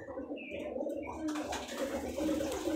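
A white male Giribaz pigeon, a local breed with feathered feet, gives soft, low cooing inside a pigeon loft, faint and muffled under steady background noise and rustling, with no voices.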